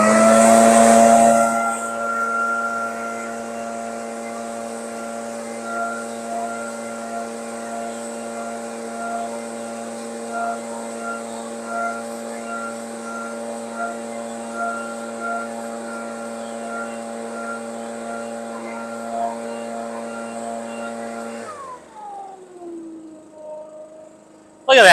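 A STIHL BR450 leaf blower runs continuously at a steady drone while clearing leaves toward nearby woods, a sustained engine whine that holds evenly before cutting off near the end.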